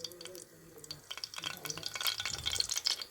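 Green chillies sizzle in hot oil in a pan, a steady crackling fry with stirring scrapes and bright pops that build louder toward the end, close and alone.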